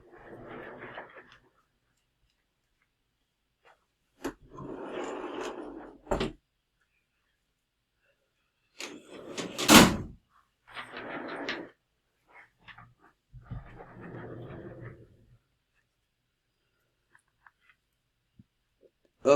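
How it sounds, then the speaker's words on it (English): Door being closed in a room, a series of shuffling, sliding and clicking bursts separated by silences, with one sharp louder knock-like impact near the middle. "let me close my door."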